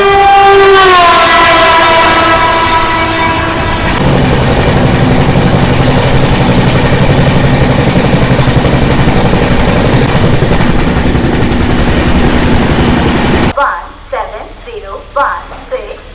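A train at Sompeta station sounds a long, loud horn blast, then rolls past with a heavy, continuous rumble and clatter of wagons for several seconds before the noise drops away and a voice is briefly heard.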